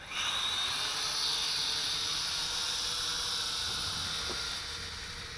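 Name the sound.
JJRC H8C quadcopter flying with motors running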